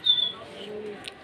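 A soft low pigeon coo, close and brief, with a faint higher chirp near the end.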